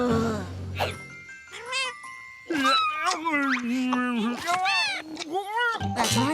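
Cartoon kittens meow in high, harmonic cries, several calls layered and repeating across the scene alongside voices and a light jingling tone.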